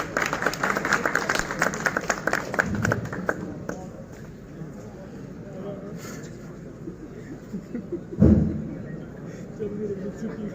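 An audience at a recitation gathering applauds in a burst of clapping at the start that quickly fades, after which faint murmuring and talk continue with a brief thump later.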